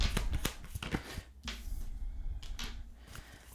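Tarot cards riffled and shuffled by hand in a series of quick, crisp bursts with short pauses between them, close and moderately loud, with no voice.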